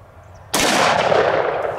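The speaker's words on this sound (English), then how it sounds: "And now for the 44 Magnum with the 245 grain full metal jackets." A single close, loud shot from a Smith & Wesson Model 629 .44 Magnum revolver firing 245-grain full metal jacket ammunition outdoors, a sharp blast followed by a sustained rolling echo.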